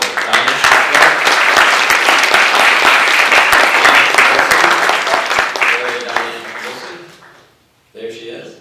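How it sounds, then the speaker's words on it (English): An audience at a Putnam County swearing-in ceremony breaks into loud, sustained applause, many hands clapping densely for several seconds before fading out, followed by a brief burst of voices. "if we could give an applause to all of the Diane"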